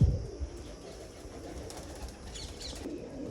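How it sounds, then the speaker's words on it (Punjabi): A female pigeon gives a few soft, low coos close by, with some quiet rustling in an otherwise calm setting. "ਚੈੱਕ ਕਰ ਲਓ ਜੀ ਆਪਣੀ ਇਸ ਕਬੂਤਰੀ ਨੂੰ"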